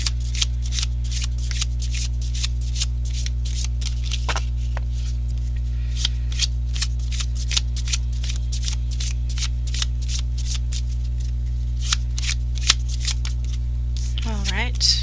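Tarot cards shuffled by hand in a steady run of crisp riffling flicks, close and clear over a constant low mains hum, with a voice speaking now and then.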